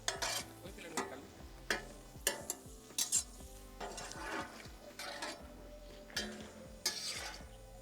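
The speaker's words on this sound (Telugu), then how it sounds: "మనం ఎండుమిర్చి కూడా వేపుకుందాం" Dried red chillies frying in oil for a curry leaf chicken fry, a quiet crackling sizzle with repeated spoon scrapes and clinks against the pan at irregular intervals, close by and without speech.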